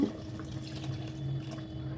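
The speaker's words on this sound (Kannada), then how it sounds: "ಇವಾಗ ನಾನು ನೀರು ಆ್ಯಡ್ ಮಾಡ್ಕೊತಾ ಇದ್ದೀನಿ" Water pours steadily into a pot of boiling mutton paya soup, a continuous splashing trickle with soft bubbling underneath, close and moderately loud with no talk.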